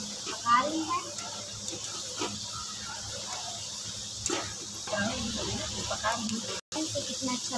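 Homemade potato french fries frying in oil over a low flame, a steady soft hiss and sizzle running throughout at moderate level, close by.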